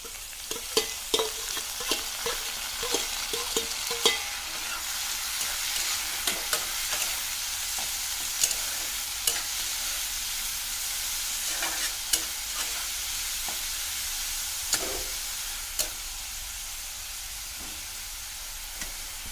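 Dried fish fries with browned onions and dried chilli in a pan, giving a steady hiss and sizzle broken by frequent clicking scrapes of a spoon as it is stirred, close by and without voices.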